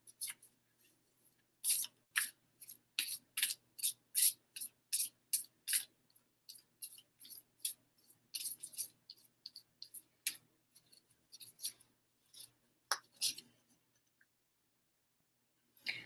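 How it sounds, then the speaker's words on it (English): An oracle card deck being shuffled, a quick series of crisp riffling card flicks and taps, close and fairly quiet, bunched in bursts then thinning out with short pauses. "All right, one more shuffle."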